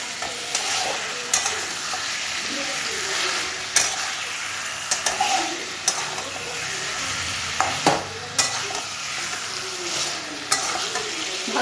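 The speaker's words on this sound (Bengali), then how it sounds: "তো এবার মাংসটা আমরা কষিয়ে নিচ্ছি ভালো করে" Chicken pieces are stir-fried in a hot pan for a curry, with a steady sizzle and a spatula scraping and knocking against the pan in irregular strokes, close and without talk.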